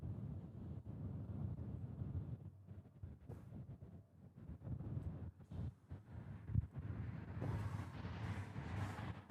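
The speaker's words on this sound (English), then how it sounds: "A little windy today, a little shaky on the camera." Steady wind buffeting a microphone while plane spotting at Honolulu airport, a low rumbling roar with gusty fluctuations throughout, no voices.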